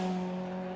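Race car tires squealing as the rear of a Skoda Octavia slides out under braking on a video-game circuit, a sustained, steady tonal screech held for under a second without a break.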